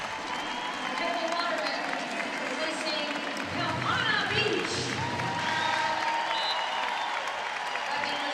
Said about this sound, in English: For Beach, a lot of the fans clapping